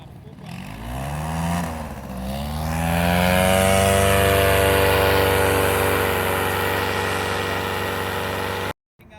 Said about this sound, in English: Let's throttle up and go back around again.